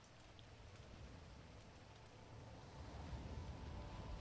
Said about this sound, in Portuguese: Começou a chover bastante, velho.